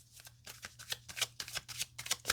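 Tarot cards shuffled by hand in quick, rhythmic riffling bursts, close and crisp, repeating about a dozen times over a faint steady hum.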